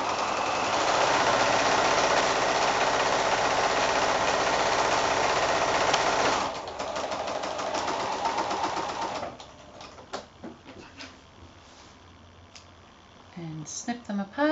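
A sewing machine stitches cushion fabric in a loud continuous whirring run, then slows into a softer stop-and-start hum followed by quiet handling clicks.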